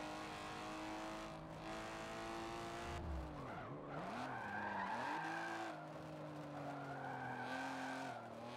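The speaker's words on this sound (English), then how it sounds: "That was a good drift." Racing car drifting in the Forza Motorsport 7 video game, played on PC with an Xbox 360 controller: a continuous engine drone with rising and falling revs and sustained tire squeal through the slide, heard without speech.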